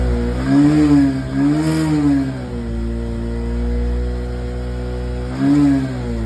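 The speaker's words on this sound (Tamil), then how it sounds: "வண்டி ஸ்டார்ட் பண்ண போகிறேன். ஸ்டார்ட் பண்ணிட்டேன்" A Bajaj Platina 110 motorcycle with a faulty O2 sensor and low sensor voltage starts and idles close by, its engine rising in a few revs and falling back between them.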